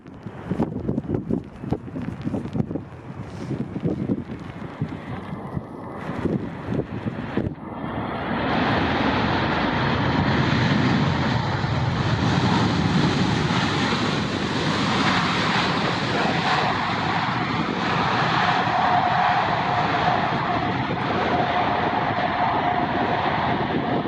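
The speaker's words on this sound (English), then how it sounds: "the world's largest passenger jet lands in ridiculous weather." The world's largest passenger jet lands in windy weather: gusty buffeting and rumble at first, then a loud, sustained roar of engines and rushing air that holds steady to the end.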